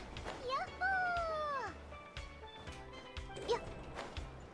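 Dogs bark in a Genshin Impact game fight, a few short yips and barks over busy game effects while a player talks throughout.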